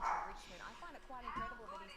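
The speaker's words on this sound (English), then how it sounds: "Nah, dog's just barking for no reason." A dog barks and yips at some distance in a house, with several quick bursts heard under a person talking during a live draft-night reaction.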